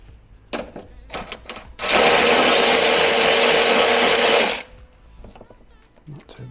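A power tool runs in one steady, loud burst for about three seconds, removing bolts on a Nissan 350Z HR engine, with scattered clinks and handling noises of work on the car before and after.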